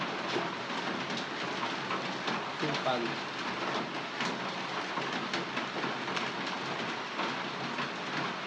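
Heavy rain pouring steadily in a home kitchen, a dense, continuous hiss with scattered louder patters and taps, fairly close and unbroken throughout.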